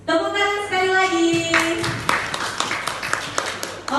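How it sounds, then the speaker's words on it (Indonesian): Students clapping in a classroom, with a sustained voice first, then a run of sharp individual hand claps spreading through the room and thinning out toward the end. "Tepuk tangan sekali lagi."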